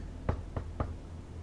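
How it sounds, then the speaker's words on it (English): Three evenly spaced knocks on a door in The Wolf Among Us, sharp and fairly close, heard alone with a low background hum. "This means knocking,"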